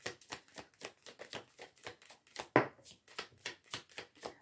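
Oracle cards are shuffled by hand, a quick regular run of soft riffling snaps close up with one louder slap midway, then more even shuffling.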